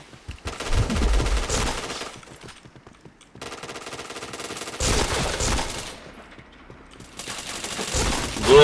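Rapid automatic gunfire from the shooter game PointBlank, loud and close, comes in bursts of several seconds with short pauses between, punctuated by sharp shot cracks.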